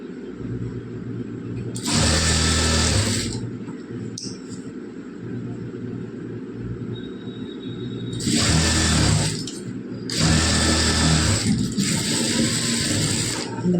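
A sewing machine stitches a long seam on a 42-inch blouse in several close bursts of whirring, broken by short pauses, over a low steady room hum with no talk.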